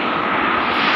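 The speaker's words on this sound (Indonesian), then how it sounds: "itu ada pesawat lagi mau mendarat." Loud, continuous jet-engine roar of an airplane passing nearby as it comes in to land near an airport, a steady broadband rush with no voices.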